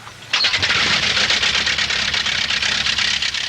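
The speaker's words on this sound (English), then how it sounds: "A ritual has evolved for starting the engine, which both pilot and crew stick to sacredly" A Gipsy Major aero engine on a de Havilland Moth biplane catches and starts, jumping from quiet to a loud, steady, rapid propeller-driven roar that continues throughout.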